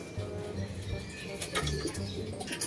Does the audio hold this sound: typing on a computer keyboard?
no